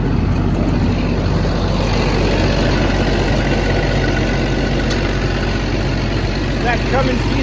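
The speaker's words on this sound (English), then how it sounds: "That Cummins diesel motor." The Cummins diesel engine of an XCMG XE210 excavator idles loudly and close, a steady low rumble throughout while someone talks over it.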